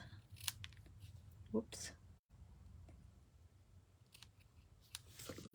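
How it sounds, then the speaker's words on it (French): Scissors cutting paper for a stamped card, quiet snipping strokes spread through the moment while someone speaks softly in French over them. "Donc, je vais venir couper."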